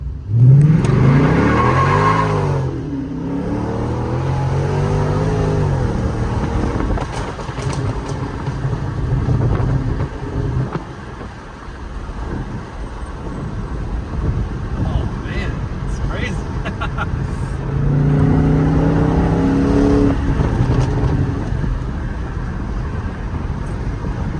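A car in manual mode letting its engine RPMs fall after a hard pull, a loud, droning engine note that rises and eases off, heard from inside the cabin under people talking.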